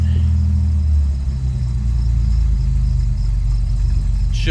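A 1984 Chevy Citation engine runs steadily after start-up with a faulty choke, giving a loud, continuous low rumble at idle with a slight shift in tone partway through.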